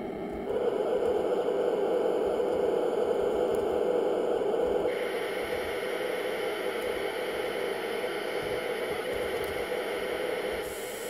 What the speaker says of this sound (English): so that's the highest pitched white noise you can get on using channel 3.